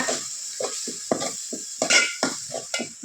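A spoon stirs tomato paste into macaroni pasta sauce in a pan, making a string of distinct, close scraping strokes in an uneven rhythm over a soft sizzle.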